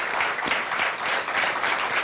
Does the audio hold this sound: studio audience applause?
yes